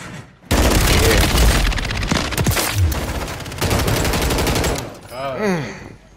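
Dense, loud gunfire crackles and booms in the Warzone battle royale, where a KAR98k sniper rifle is in play, continuing for several seconds before tapering off, followed by a brief voice near the end.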